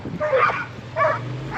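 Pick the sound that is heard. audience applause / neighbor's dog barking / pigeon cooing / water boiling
neighbor's dog barking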